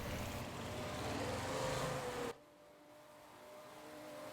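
Onboard engine of the number 21 race car in a Le Mans racing game, a steady loud drone that cuts sharply to a quieter hum partway through, with no talk.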